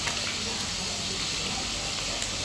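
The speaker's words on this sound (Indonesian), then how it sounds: "Saya menggoreng ikan teri basah ini." Wet anchovies frying in a pan in a home kitchen, giving a steady, dense hiss and sizzle that runs unbroken and moderately loud with no talk over it.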